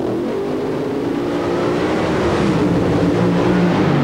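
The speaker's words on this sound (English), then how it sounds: "Now you hear the RPMs just scream." Drag racing car engine at a 1993 NHRA event in Atlanta screaming at high RPM, a dense sustained roar with rising harmonic tones, loud and continuous.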